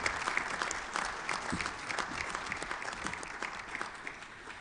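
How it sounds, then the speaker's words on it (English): A conference audience applauds the masters of ceremonies at a high-level meeting on the Lake Chad region, giving steady, dense clapping from a large crowd that fills the hall and carries on throughout. "Please give them a round of applause."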